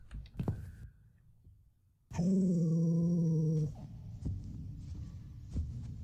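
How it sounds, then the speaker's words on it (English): A dog's low, droning growl in the video game The Cat Lady, with a buzzing, game-like tone, holds for about a second and a half, surrounded by quieter scattered thumps and noise. "That sounds like the dog"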